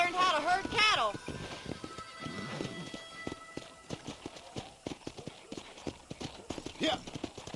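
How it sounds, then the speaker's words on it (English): Horse hooves clop in Red Dead Redemption, a steady run of distinct hoofbeats under voices talking, with a brief whinny early on and game ambience around. "Monte no seu cavalo."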